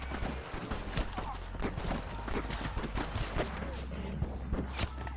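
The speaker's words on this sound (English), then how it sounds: "Quit shooting at me!" Video game gunfire crackles in dense rapid bursts and volleys throughout, fairly loud, with scattered clanks and footstep-like noises in between.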